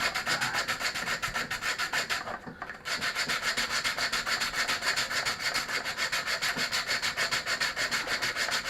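Steady, continuous rubbing of abrasive against a hard surface, like hand sanding, with a brief pause midway before the strokes resume.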